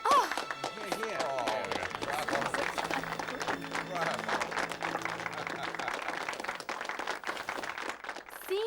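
An audience in a hall applauds a girl in a lovely new dress with steady, dense clapping for about eight seconds, while voices and cheers ring out over it.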